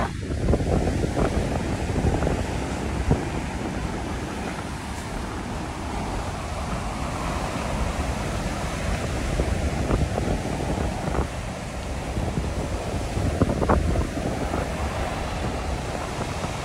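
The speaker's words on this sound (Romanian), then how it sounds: "Mamă, ce valuri!" Sea waves roll in at Mamaia beach on the Black Sea, a continuous churning surf wash mixed with heavy wind buffeting the microphone, with no talking.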